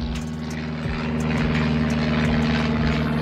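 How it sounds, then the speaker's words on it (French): Propeller airplanes flying overhead above a giant outdoor maze, a loud steady engine drone with a strong low hum that fills the whole stretch and grows slightly louder toward the end. "Eh oh les avions là, il y en a marre hein."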